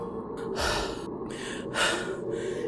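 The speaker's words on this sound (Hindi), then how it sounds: "जिसे चढ़ते हुए उसके तीनों दोस्त हाँफने लगे थे" Heavy breathing and gasps from people after a climb, two strong breathy bursts with quieter panting between, close and without words.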